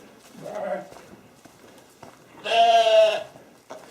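Sheep bleating at feeding time on a small farm with a flock of ewes and a ram; one drawn-out, fairly loud bleat stands out after an earlier shorter call, with faint background noise.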